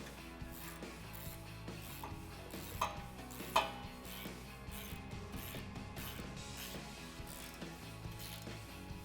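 A ratchet with a 16mm deep socket tightens the inside studs of a front bumper on a Jeep Wrangler JL, making soft, steady clicking strokes close by with no talking.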